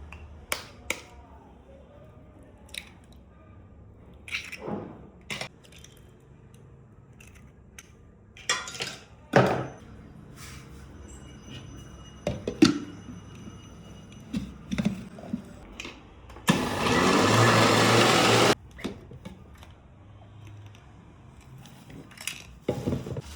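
Sugar and eggs whir in an electric mixer for a loud two-second burst, set among scattered clinks and taps of kitchen utensils while making a tea-shop style egg kajada cake.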